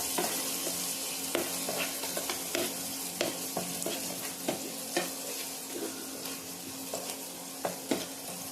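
Raw onion and green chilli frying in a pan for fried momo filling, a steady close sizzle broken by regular spatula scrapes and taps every second or so.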